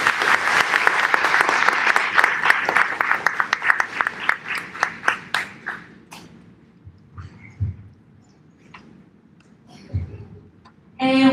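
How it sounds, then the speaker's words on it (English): Crowd at a fifth grade graduation bursts into dense, loud applause that slowly thins into scattered individual claps and fades toward the end, with a few faint sounds of the room between. "Let's give one more round of applause for our class."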